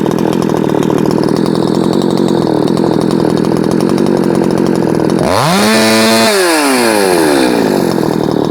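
A ported Shindaiwa 600SX chainsaw runs steadily up close, then snaps open to a loud, high, sustained free-rev whine before the pitch eases back slightly; no one speaks.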